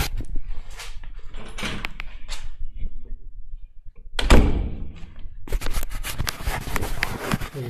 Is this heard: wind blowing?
no